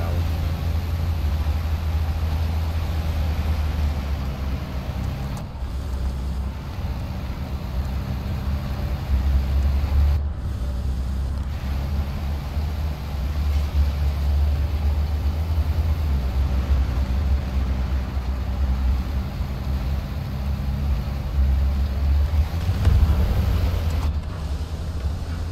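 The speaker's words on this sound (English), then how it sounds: "I really have to crank down the engines." Loud tank and vehicle engines in the War Thunder video game, a steady heavy low rumble droning throughout the whole stretch with slight surges, close and continuous.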